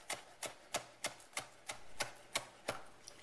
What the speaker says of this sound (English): take your chef's knife and cut